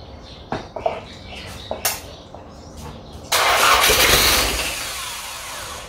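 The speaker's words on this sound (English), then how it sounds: "So open up the solenoid." A Mitsubishi Pajero 2.8L 4M40T diesel engine, freshly rebuilt, cranks with a few faint knocks and clicks before catching and firing up loudly around the midpoint, then settling into a rough, steady run close to the listener.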